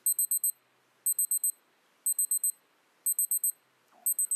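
A watch alarm beeping in groups of four quick, high electronic beeps that repeat about once a second, close and clear, with no talk.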